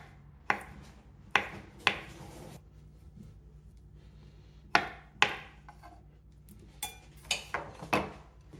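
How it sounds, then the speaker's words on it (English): A kitchen knife slices carrots into big slanted pieces on a wooden board, producing scattered sharp chops in irregular clusters, some spaced seconds apart, nearby and fairly quiet. "I'm cutting my carrots into pieces, big slanted pieces."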